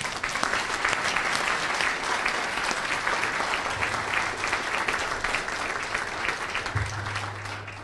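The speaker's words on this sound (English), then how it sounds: "we should all give Carl a round of applause for his work" Sustained applause from a conference audience for a man's work in his town, a dense and even wash of clapping that stays loud throughout with no voices over it.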